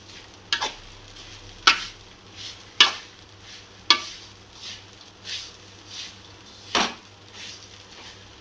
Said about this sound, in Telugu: వేసుకున్న తర్వాత మనంతా సిమ్లో పెట్టుకొని ఇలా కలుపుకుందాం బాగా